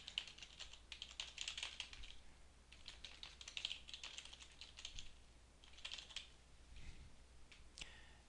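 Quiet keyboard typing while entering journal citation details on a computer: faint, rapid bursts of key clicks in irregular clusters over a low hum.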